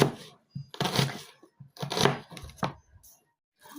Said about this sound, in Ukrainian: я нарізаю півкільчиками цибулю